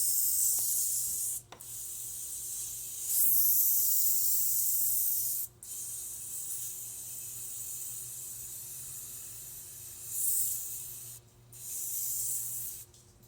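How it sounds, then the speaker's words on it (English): A hard card is swiped down and across a soapy truck window while tint film is fitted, giving a quiet, steady, close rubbing hiss with a few short breaks between strokes. "just take your hard card by itself, no towel. Swipe down and across."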